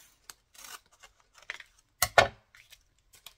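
Scissors cutting paper card for a vintage-style Z-fold Christmas card: a few soft, crisp snips and rustles, with one louder cut near the middle, close and quiet with no talking.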